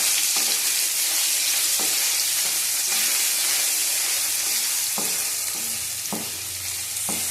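Softened lotus stolons (loti) fry in a pan, a loud, steady hiss of hot oil with repeated sharp scraping strokes of a spatula at irregular intervals.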